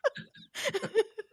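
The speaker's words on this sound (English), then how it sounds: "an involuntary hiccup from yours truly" A single sharp vocal hiccup from a man, loud and close, followed by a brief stretch of breathy, laugh-like vocal sounds.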